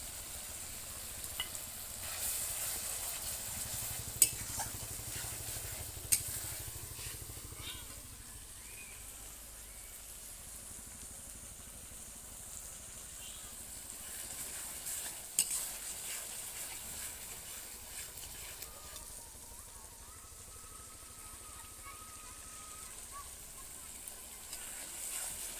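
A paste of ground chilli and dried coconut fries in oil with a soft, continuous sizzle, faint and steady, with a few light clicks and no talk.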